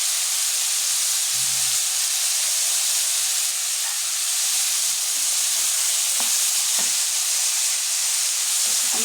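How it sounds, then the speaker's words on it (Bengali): Bitter gourd frying in a pan with turmeric sizzles in a continuous, even hiss, with faint scrapes and knocks from stirring underneath. "আমি ভালোভাবে নাড়তে থাকি করলাটা ততক্ষণ না ভালোভাবে ভাজা হয়"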